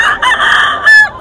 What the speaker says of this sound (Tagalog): Pakita natin ang manok.